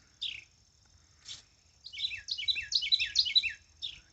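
A wild bird chirps near a log beehive colony, giving a few short single chirps and then a fast rapid run of bright, high tweets, all fairly faint over quiet background.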